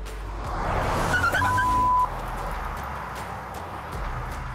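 A 1994 Dodge Viper is driven fast through a curve, with the engine rising in a steady passing roar, moderately loud and then easing off, and no one talking.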